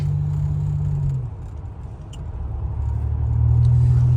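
A 1987 Buick Regal Limited turbo on the move, its engine a steady low drone that eases off briefly, then builds again to a fuller rumble near the end, with no voices over it.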